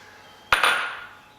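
Eggs tossed into a bowl of Collier's cheese while mixing Welsh rarebit, giving two quick clinking knocks close by against the bowl, followed by a short fading ring with no talking.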